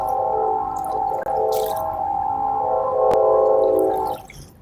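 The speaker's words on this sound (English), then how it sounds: "That womp, womp, womp you can hear, that's a barge coming up the river." A big old barge engine heading up a river throbs with a steady, deep rhythmic womping hum that holds at a constant level, fading slightly at the end.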